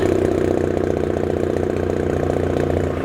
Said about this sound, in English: RX-8 idle.